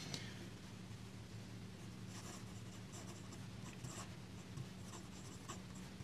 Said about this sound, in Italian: Vediamo un po' come se la cava questa penna e che sensazioni abbiamo nella fase di scrittura